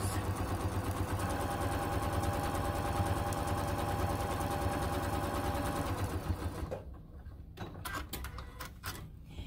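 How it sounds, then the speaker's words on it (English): A semi-commercial sewing machine stitches a strip of fabric scraps with a steady, close, mechanical whir for about six seconds. It then stops, leaving a few light clicks and handling noises. "It's a semi-commercial machine, and it is just a breeze to use."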